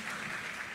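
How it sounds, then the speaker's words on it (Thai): A short burst of dense clapping from a seated audience at a Thai insurance agents' gathering, steady and fairly close throughout with no pause. "ปรบมือให้น้องแกนด้วยนะคะ"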